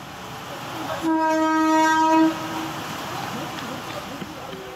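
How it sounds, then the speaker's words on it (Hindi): A Mumbai local train runs through waterlogged tracks during heavy monsoon rain, sounding one long, loud horn blast of about a second amid steady rumbling and splashing noise that carries on after the horn stops. "जगह जगह पानी के बीच से ट्रेन गुजरती हुई नजर आई।"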